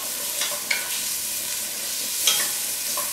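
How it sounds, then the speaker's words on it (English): Half an onion sautes in hot oil in a pan, with a steady soft sizzle, a few scraping stirs and light clinks. No one speaks over it. "I'm going to add half an onion. Let it saute a little."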